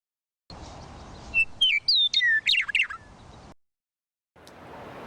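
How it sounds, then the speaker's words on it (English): A Western meadowlark sings a single bright, flute-like phrase of several quick descending whistles and warbles, clear and fairly close, with quiet background before and after. "Western meadowlark."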